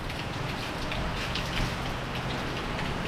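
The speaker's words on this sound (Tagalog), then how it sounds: "lumakas na yung ulan" Heavy rain falls hard and steadily on a surface, a dense, loud, continuous patter with no other sounds.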